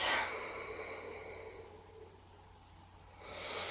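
A slow, soft exhale fades out, followed by the start of a fresh breath, heard close and quiet with no talking.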